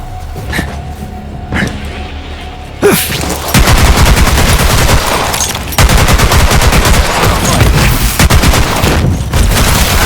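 Heavy gunfire in Borderlands 3, a first-person looter shooter: a few scattered shots give way to loud, sustained rapid-fire bursts with booming impacts, nearly continuous for several seconds.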